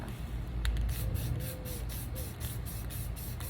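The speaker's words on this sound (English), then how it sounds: "So when I spray paint, I just kind of go back and forth like you see." Short rhythmic bursts of aerosol spray hiss repeat steadily, nearby, with a faint rattle at the start.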